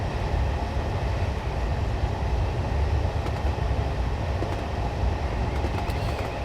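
Steady, dense low rumble inside the cab of a Class 40 diesel locomotive in Train Simulator 2015, running between Edinburgh Waverley and Dundee, with a constant draft-like roar and faint rail clatter and no voices.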